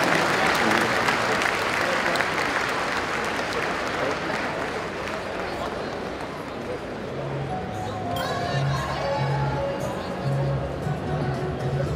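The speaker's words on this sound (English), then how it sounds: "Please give them a round of applause." An audience at a banquet awards ceremony claps in a dense, sustained round of applause that gradually thins out, with a voice starting to speak at the end.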